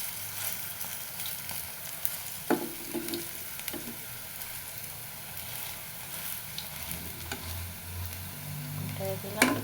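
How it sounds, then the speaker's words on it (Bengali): Duck eggs fry in a pan with a steady sizzle and occasional scraping stirs and clinks of a spatula, close and continuous without speech. "ভাজা হচ্ছে, এক পিঠ হয়ে গেছে,"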